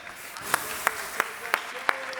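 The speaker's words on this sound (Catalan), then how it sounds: "Un fortíssim aplaudiment per Strombers!" Hands clap at a steady, even pace for a magic act, about six distinct claps over a quiet background.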